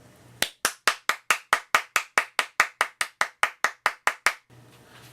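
One person claps about seventeen times, sharp and close, at a steady brisk pace, with a faint hum before and after.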